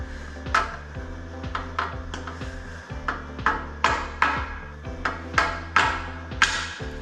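Repeated sharp taps of a plastic hammer on a tight-fitting part of a VW AAB 2.4 D engine being rebuilt, about a dozen strikes in an uneven rhythm, close and fairly loud with ringing tones.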